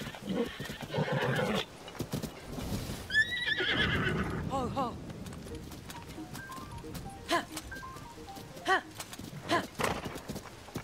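Horse in the video game Zelda: Tears of the Kingdom whinnies in a short rising call, then its hooves clop in scattered beats over game ambience, with a voice speaking early on.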